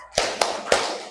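Three sharp hand claps ring out in a classroom focus-clap routine, spaced unevenly across about a second, each crisp and close with a short tail.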